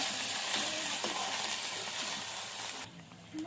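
Cauliflower pakoras are stirred in a hot pan with soy sauce and tomato sauce, making a dense sizzle and scraping that drops away near the end.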